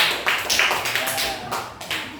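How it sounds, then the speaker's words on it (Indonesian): Classroom of students applauding group 4, a lively patter of claps rising in uneven bursts, with voices mixed in underneath. "Beri tepuk tangan yang meriah untuk kelompok 4"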